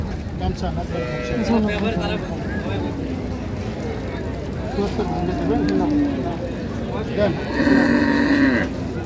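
Dairy cattle lowing near and far at Raniganj cattle market in Dinajpur, several moos from cows and calves, mixed with people talking in the background.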